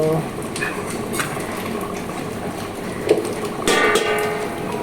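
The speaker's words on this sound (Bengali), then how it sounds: "এখানে ঝোলটা ফুটছে" Egg curry gravy simmering in a pot, with a steady soft bubbling wash and occasional faint clinks of utensils running through the whole stretch.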